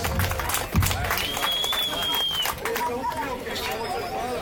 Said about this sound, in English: Give it up, clap it up, show some respect for yourselves.